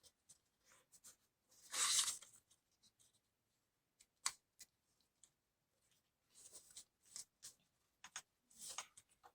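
Origami paper being folded for an Advent wreath gives close, intermittent crinkles and crisp rustles, with one louder scrunch early on and scattered light creases afterward, no voices.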